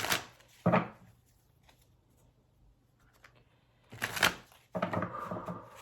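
Tarot cards are riffled and shuffled in short crisp bursts, one early and two more close together near the end, separated by near silence.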